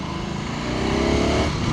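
A 2026 Ducati Panigale V4S motorcycle engine drones steadily while riding, a close, continuous roar that swells slightly louder partway through, with no talking.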